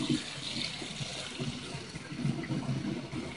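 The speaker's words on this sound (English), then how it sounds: "You can grab the faucet" Water runs steadily from a tap nearby, a continuous splashing gush with no voices.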